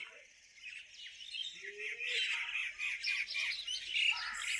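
A flock of sparrows arrives, chirping and squawking busily in a bright, continuous chatter that grows denser, with a voice briefly heard underneath.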